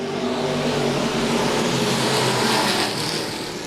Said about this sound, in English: A lot of good fast race cars as we go through 3 and 4